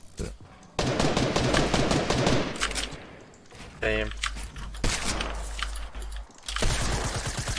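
Rapid bursts of video game gunfire, clustered automatic volleys and single shots, loud and close, broken by short gaps, with players talking over the shooting.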